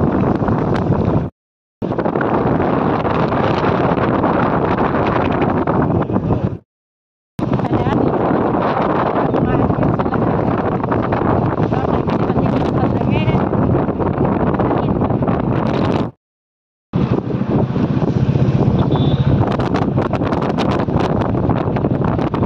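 Strong wind roars and buffets the microphone loudly and continuously outdoors, with a few brief moments of silence in between.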